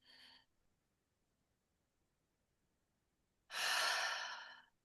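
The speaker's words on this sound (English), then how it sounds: "Drink the breath in." A deep breath is drawn in through the nose during yoga breathwork. A brief breath sound comes first, then quiet, then a long, close, strong inhale lasting over a second.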